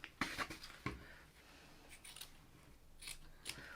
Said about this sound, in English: And what you're going to do now is you're going to cut it across just like that.